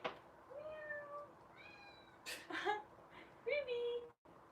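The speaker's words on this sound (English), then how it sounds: "Did you hear my kitty meowing?" A pet cat meows several times indoors, drawn-out and plaintive cries, fairly faint against a quiet room background.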